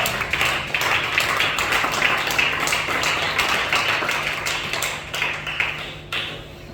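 A church congregation applauding the Lord, a dense, steady wash of many hands clapping together, loud and sustained, thinning slightly toward the end.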